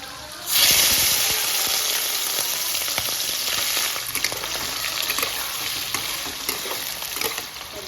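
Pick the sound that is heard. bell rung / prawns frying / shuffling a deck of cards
prawns frying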